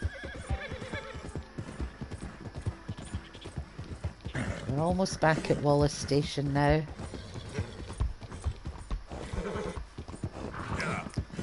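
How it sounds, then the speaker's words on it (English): A horse neighs loudly mid-clip in Red Dead Redemption 2, with galloping, clopping hooves and someone talking over a noisy outdoor background. "Let the horse get his breath back again."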